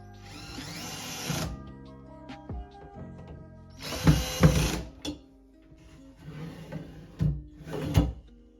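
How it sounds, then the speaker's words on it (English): An IKEA PAX KOMPLEMENT drawer slide is screwed in place with a power drill, heard as three separate short bursts of whirring drill noise, each followed by clunks and knocks of the slide and drawer parts, all close and with no speech. "Screw the slide in the hole right above the drawer below."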